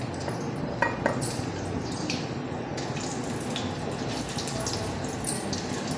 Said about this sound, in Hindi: गर्म हो गया है तो इसमें हम एक एक करके कोफ्ते डालेंगे।